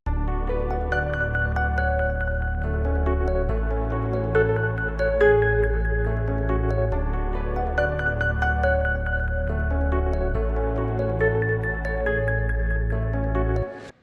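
A dark ambient loop built on a Reese Serum bass with ARP circuit noise, playing as a dense, sustained layered texture with a steady deep low end and shimmering upper tones, continuous and loud throughout before cutting off at the end.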